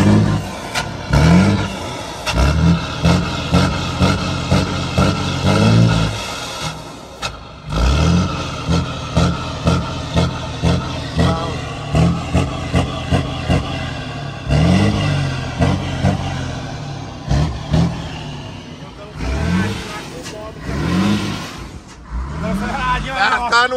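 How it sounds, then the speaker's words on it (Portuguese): A truck engine revs hard and accelerates at a crowded truck meet, with repeated surges and throttle bursts close by, while people talk over it. "Eu tô acelerado na lona, com dó do caminhão"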